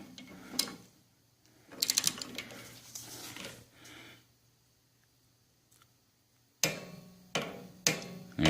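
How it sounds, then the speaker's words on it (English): An inch-pound torque wrench ratchets on a front brake bolt of a 2014 Harley-Davidson Street Glide Special, giving short bursts of close metallic clicking separated by quiet gaps, with a few sharper clicks near the end. "I've got my inch-pound torque wrench set for 95 inch-pounds, and we're going to insert it"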